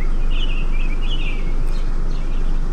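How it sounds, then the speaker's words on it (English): Birds chirp in short bursts over a constant low rumble and breezy background at a campground, fairly faint and distant. "listen to the birds. You can hear them, hear that?"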